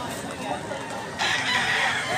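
A quality Dr. Blues bloodline rooster in Mantalongon, Cebu, crows partway through, its call rising fairly close and loud over steady outdoor background noise.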